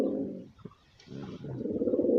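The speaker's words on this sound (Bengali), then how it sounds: "একবারে কড়া একটা কবুতর" A pigeon coos close by in two low, throaty, rolling phrases separated by a brief pause.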